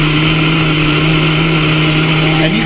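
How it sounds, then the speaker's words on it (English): A kitchen blender whirs loudly and steadily while blending a green smoothie, with a constant dense hum and no pauses. "The magic of the blender."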